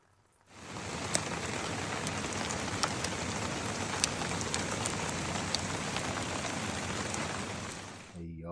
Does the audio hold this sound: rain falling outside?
yes